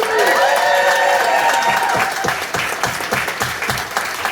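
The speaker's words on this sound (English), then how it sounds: "Can we do a round of applause for Halifax?" Comedy club audience at a drag queens comedy show breaks into loud applause and cheering, many hands clapping close and full, with some whoops over the top that fade as the clapping carries on.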